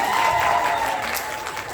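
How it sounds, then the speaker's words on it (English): A cabaret audience applauds during an award announcement, a soft continuous patter of clapping hands with a faint tonal hum running beneath, steady and moderately distant for a brief stretch. "round of applause anyway"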